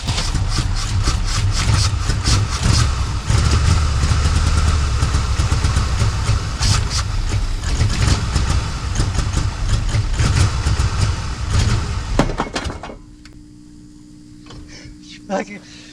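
An old Chevrolet 210 engine runs loudly with a rough, steady idle and some rattling for about twelve seconds, then cuts off, leaving a quiet stretch with a few faint clicks.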